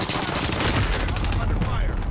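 A heavy shootout in a shooter video game, with dense, continuous rapid gunfire that stays loud and close throughout.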